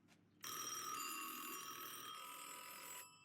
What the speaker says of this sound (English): Electrical doorbells.